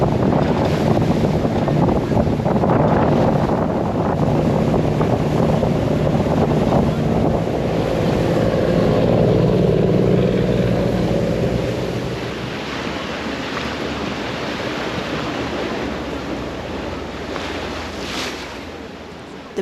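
Engine drone and rushing water as a tour boat speeds across the sea near Tai O fishing village, Hong Kong, with steady wind buffeting the microphone; the roar eases slightly toward the end.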